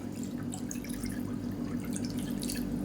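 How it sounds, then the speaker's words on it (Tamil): Hot water pours steadily into a pot of garlic and black pepper soup, a continuous close splashing gurgle that holds at an even level throughout with no talking. "மெஷரிங் கப்பில் ரெண்டு கப் அளவுக்கு தண்ணி சேர்த்துக்கலாம் இது வந்து நல்லா சூடு பண்ண தண்ணி தான் நான் சேர்க்குறேன்"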